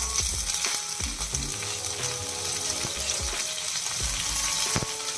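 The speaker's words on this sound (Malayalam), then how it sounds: "ഒരു സ്പൂൺ വെളിച്ചെണ്ണ ഒഴിച്ചിട്ട് കുറച്ച് കടുകും ഉഴുന്ന് വരിപ്പും ഇട്ടിട്ടുണ്ട്" Mustard seeds and urad dal sizzle hard in a spoonful of hot coconut oil in a clay pot, with a steady loud fry and scattered pops and crackles throughout. No voices are heard.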